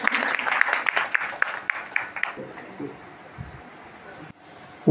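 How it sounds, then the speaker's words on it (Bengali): Audience applause at a ceremony on inclusive education, a burst of brisk clapping that lasts about two seconds and then fades, followed by quieter room noise and a few faint sounds. "একটু জোরে হাততালি ওনার জন্যে"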